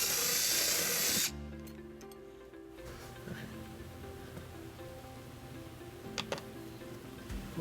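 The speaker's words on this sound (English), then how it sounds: "and then we're going to drill our first hole." A power drill whirs loudly for about a second, drilling a hole in a 2011 Mazda CX-9 bumper, then cuts out, leaving faint clicks and a low background hum.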